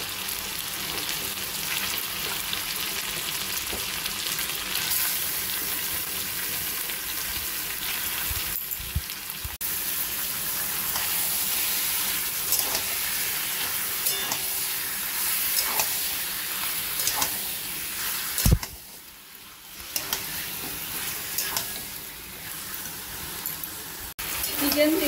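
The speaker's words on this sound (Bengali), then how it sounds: "চিকেন 3-4 মিনিট মতো ভেজে নিয়েছি" Chicken pieces frying in ginger-garlic paste for a Pakistani chicken dish, with a steady close sizzle and hiss running throughout, a brief dip in the middle, and faint voice sounds in the background.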